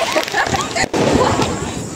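A Diwali helicopter firecracker spins and flies up close by with a crackling, fizzing burst. People talk loudly over it.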